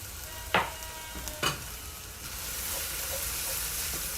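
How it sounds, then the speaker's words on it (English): Granulated garlic stirred into onions frying in a pot: two quick scraping stir strokes over a steady, close sizzle that swells slightly toward the end. "Give it a quick stir."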